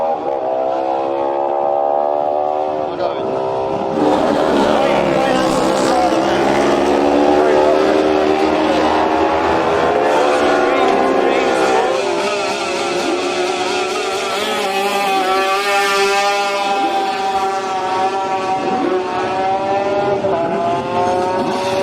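Racing motorcycles revving loudly at the start line of the Manx Grand Prix lightweight race on the Isle of Man, engines sustained and rising in pitch with commentary running over them throughout.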